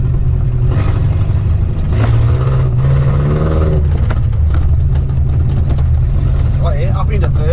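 A Datsun 1500 ute engine revs through a gear change into third, a low steady drone rising and falling in pitch, with someone talking over it throughout.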